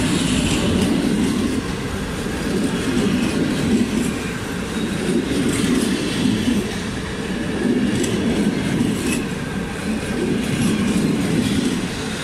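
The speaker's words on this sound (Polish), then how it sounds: "odjeżdża pociąg regiobłękitny relacji Świnoujście Szczecin Główny" A Polregio regional train running from Świnoujście to Szczecin Główny departs with a steady, loud rumble of wheels on rails and rhythmic clacking, heard close throughout with no talk.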